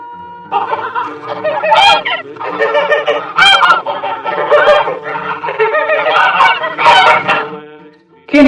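A domestic farm goose honks repeatedly in loud, close bursts, its harsh nasal calls coming in a rapid irregular series with short gaps and no other sounds.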